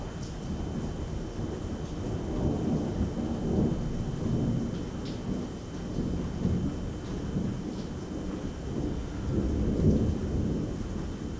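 A lightning storm over an island hotel: deep, rolling thunder rumbles beneath a steady wash of rain, swelling in waves, with no voices.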